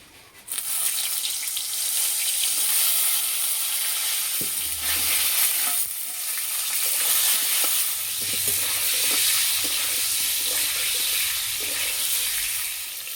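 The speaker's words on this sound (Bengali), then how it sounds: "তেল গরম হয়ে গেছে, পটলগুলো ভেজে নেব।" Pointed gourd (potol) fries in hot mustard oil with a little turmeric and salt in a kadai, giving a continuous close sizzle with occasional soft stirring clatters and no talk.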